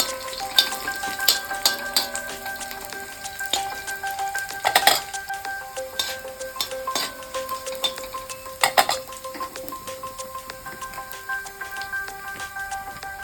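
Onions frying in a pan until they start to change colour, a continuous crackling sizzle with frequent sharp pops and occasional utensil clinks against the pan, close and without talk.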